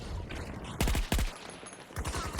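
Gunfire in Battlefield 2042: sharp, loud bursts of rapid shots, two tight clusters close together, then another burst after a short gap.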